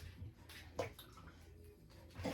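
Water is poured onto a dry potted plant in a few short splashing bursts, quiet and close, with soft trickling between them.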